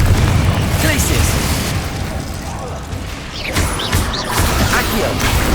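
Confringo blasting spell explosions in the Hogwarts Legacy video game: loud, dense, continuous booming and crackling bursts filling the whole stretch, with other spell effects mixed in.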